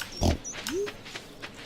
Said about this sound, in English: Oh look, let the pigs out.